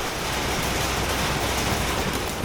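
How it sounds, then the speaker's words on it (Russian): Rain falls steadily at a resort hotel on Phu Quoc, Vietnam, a dense, even hiss of drops with no pauses, close and fairly loud. "Дождик идет."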